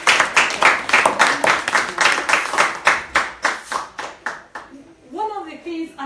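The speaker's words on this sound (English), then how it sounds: "Let's clap for it" An audience of women at a networking event claps in steady, close, loud bursts for several seconds, thinning out near the end as a voice begins to speak.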